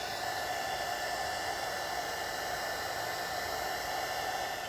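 A heat gun blows a steady, loud airflow hiss without pause while warming a Tesla emblem on a car body ahead of removal.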